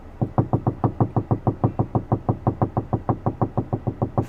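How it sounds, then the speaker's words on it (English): Rapid, steady knocking on a door, about twenty evenly spaced sharp raps over four seconds, close and loud with no talking, an odd pecking rhythm. "Did you hear the type of knocking?"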